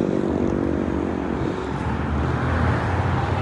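A truck driving around the pits of Swindon Speedway Stadium, heard as a steady, moderately distant engine and tyre rumble with a broad wash of outdoor background noise and no talk.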